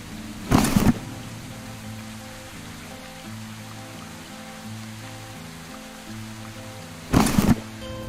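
Rain falls steadily in the S.T.A.L.K.E.R. OGSR mod, a constant patter under a low ambient music drone, with two sharp loud bursts near the start and end.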